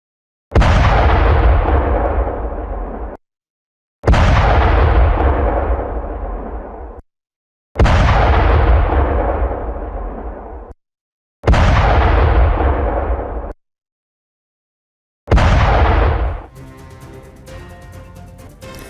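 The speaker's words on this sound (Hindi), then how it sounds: "सीरिया में PKK के बेस पर मिसाइल दागी गई।" Five loud, heavy blasts from missile strikes on a PKK base in Syria, each a broad booming roar that decays over a few seconds, separated by brief silences, with a faint rumbling tail after the last one.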